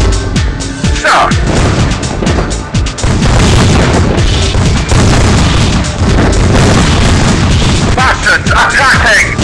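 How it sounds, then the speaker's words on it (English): In the War of the Worlds video game, a Martian building is destroyed by loud booming explosions and crashing blasts, with game voice lines heard over the rumbling barrage. "Martian building destroyed."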